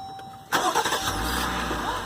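A car's engine cranks and catches with a push-button start, then settles into a steady idle that carries on loud and close to the end.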